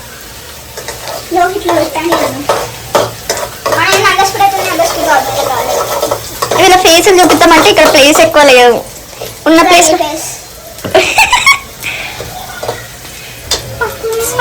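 Onions fry and sizzle in a pan while omelette Maggi is being cooked. The crackle runs steadily underneath nearly constant conversation, with a few louder clatters from the pan.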